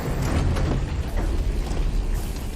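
A fort gear mechanism activates in the Horizon Forbidden West video game, a loud continuous grinding rumble with creaking, ratcheting texture that holds steady throughout, with no voice over it.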